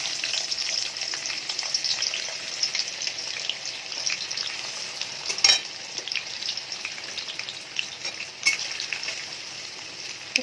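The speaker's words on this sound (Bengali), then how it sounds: "এখানে পেঁয়াজটা কতক্ষণ ভাজা হোক" Chopped onions sizzle steadily in hot oil in a wok for an egg biryani, with a constant crackling hiss and a couple of sharp stirring clinks.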